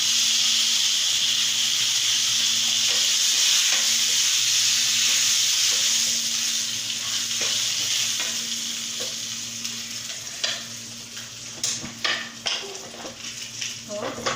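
Curry leaves and coriander frying in a pan for pongal, a loud continuous sizzle and hiss that eases toward the end as a spoon scrapes and clicks against the pan in short irregular strokes.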